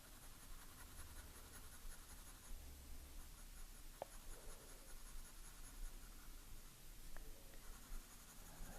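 Soft 8B pencil shading on paper while drawing a shark: a faint, steady scratchy rasp of graphite strokes close to the page, quiet throughout with a couple of tiny ticks and no voices.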